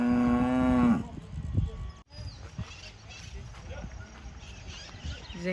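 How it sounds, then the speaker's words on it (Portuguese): A cow moos once, long and loud, in a pasture, followed by quieter outdoor ambience with scattered knocks while people talk nearby. "Tem um pasto aqui, cheio de vacas."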